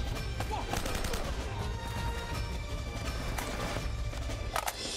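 Rapid AK rifle fire crackles in Uncharted: Drake's Fortune, dense bursts of shots layered over a constant rumble of game noise and impacts.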